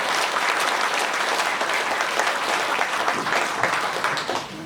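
Audience applause at a Korean book launch event, a steady, dense wash of clapping from a full room that holds evenly loud for nearly five seconds.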